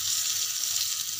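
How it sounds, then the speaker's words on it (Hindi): Chillies sizzling in hot ghee for a tempering for achari dal, a steady bright crackling hiss that stays even and close throughout, with no voices. "इसे हम थोड़ा भूंजेंगे ताकि ये वाइट हो जाए, मिर्ची अच्छे से पक जाए"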